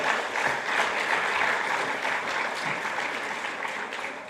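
Dense, even applause from a church congregation at a Bible seminar in Peru holds steady for a few seconds, many hands clapping together at close range with no clear talk above it.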